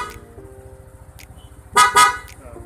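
Two quick loud blasts of an aftermarket Bosch Evolution horn on a Yamaha NMAX scooter, bright and buzzy, over a low idling engine putter, close by.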